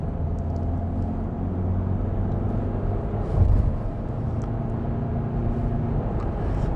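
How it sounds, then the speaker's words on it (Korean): Low, steady tire rumble inside a moving Kia Carnival minivan, a constant droning hum with a brief louder thump midway. "타이어 소음인가?"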